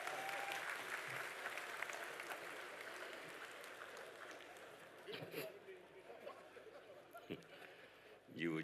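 An audience at an UMNO party assembly applauds in a dense, steady wash of clapping that slowly fades, with chatter and a voice emerging near the end.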